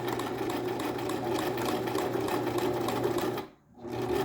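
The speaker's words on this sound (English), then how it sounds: "now I'm sewing fast also" A sewing machine runs fast and close, stitching a plastic zipper with a dense, even mechanical whir that pauses briefly near the end before starting again.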